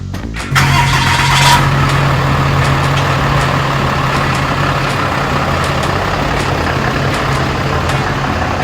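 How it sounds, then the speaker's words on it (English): A Jeep TJ engine cranks and catches, then settles into a loud, steady idle and runs on continuously as the vehicle moves, with no talking. "Move the Jeep, Batman!"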